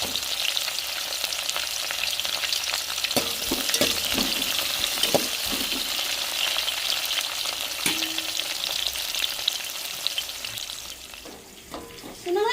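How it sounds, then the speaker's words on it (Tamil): Chopped onion and green chillies frying in hot oil with mustard seeds and urad dal for crab curry, a dense, loud sizzle with occasional stirring clatter, fading slightly near the end. "வெட்டி வச்ச வெங்காயத்தையும் போட்டுக்கிறோம். பச்சை மிளகாய் போட்டுக்கிறோம்."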